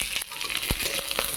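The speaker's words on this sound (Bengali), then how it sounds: "পেঁয়াজটা লাল লাল করে ভেজে নেব।" Chopped onion fries and sizzles in a pan as it is stirred, with close crackles and scraping ticks over a steady hiss.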